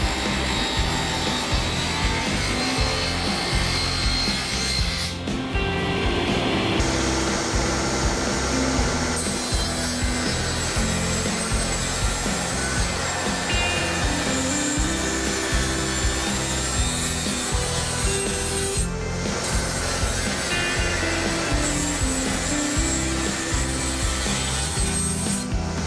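A saw cuts wooden door panels against a sacrificial fence, a continuous, loud, rough grinding of the blade through wood with brief dips in intensity and no voices.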